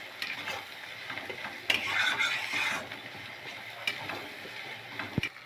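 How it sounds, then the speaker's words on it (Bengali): Spices frying in a pan for a goat curry, a quiet steady sizzle with a few sharp scraping stirs and brief clinks of a spoon against the pan throughout. "এখন দেখো সমস্ত মশলাগুলো ভালো করে ভেজে নেওয়া হচ্ছে।"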